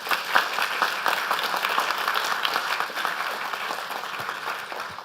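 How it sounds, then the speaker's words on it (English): Sustained applause from a conference audience at a programming languages awards ceremony in an auditorium, dense and steady clapping filling the room for the full stretch without voices. "I know you just clapped a lot."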